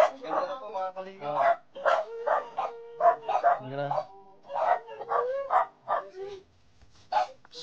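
Several dogs bark at a house in repeated close yaps and woofs, with a few whimpers, while people talk over them.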